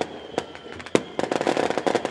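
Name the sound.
firecrackers exploding at a football match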